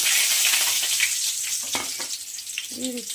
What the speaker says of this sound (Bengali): আমি পেঁয়াজ কুচি দেব